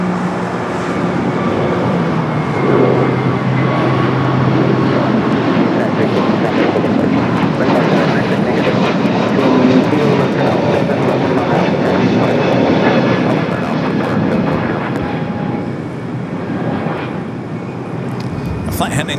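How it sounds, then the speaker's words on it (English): An Airbus A321neo airliner bound for Denver roars past at a busy airport, a loud, sustained jet engine rumble that gradually tapers off, with voices talking over it. "A flight heading to Denver on that A321neo."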